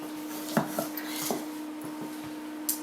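A spoon scrapes and knocks against a bowl while Navajo blue cornbread batter is stirred, a few scattered clinks and soft thuds over a steady low hum, close and moderately quiet.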